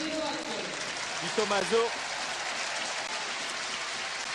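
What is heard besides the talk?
football supporters cheering and applauding a substituted player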